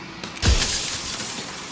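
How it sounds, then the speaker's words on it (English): A mirror cracks and shatters in the video game Slay The Princess: a faint crackle, then a sharp loud glass break with a low thud, followed by a lingering tinkling wash of falling shards. "turning the mirror into a jagged shard of broken glass"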